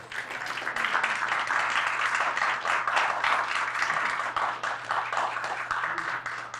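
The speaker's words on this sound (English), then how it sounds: "You can refrain from clapping and participating." Audience members at a building review board meeting clap steadily in a room, a continuous dense patter of many hands with a low hum underneath.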